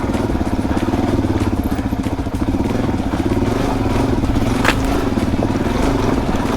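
A Suzuki DRZ 400 dirt bike rides a trail, its single engine droning steadily and close with a continuous rough, pulsing throb and faint clatter, no speech over it.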